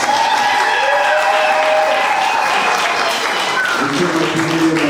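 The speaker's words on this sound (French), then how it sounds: "vous devez applaudir ce couple-là" Applause for a couple at a civil wedding ceremony in a town hall, steady clapping from a gathered crowd with some voices over it throughout.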